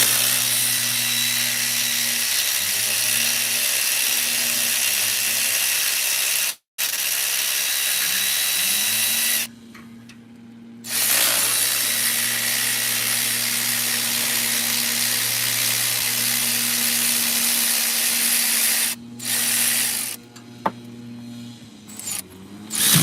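A Milwaukee power ratchet with a short extension and 12mm 12-point deep socket running nuts off a Prius engine during head gasket work, a long steady motor whine broken by brief pauses and restarts.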